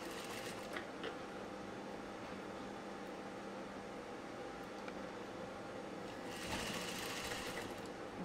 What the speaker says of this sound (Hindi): एकदम कोने में ही लगाना है सिलाई,